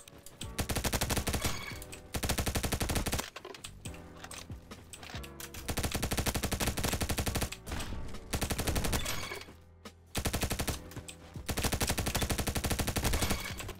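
Dense, loud bursts of automatic fire from a TAR-21 rifle in the Bad Business video game, coming in long strings broken by short pauses and layered over game effects and music.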